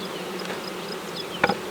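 Honey bees buzzing around a hive in a low, steady drone, with a brief sharper rise near the end as a bee passes close.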